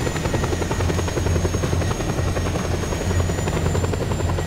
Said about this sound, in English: Is there a helicopter coming?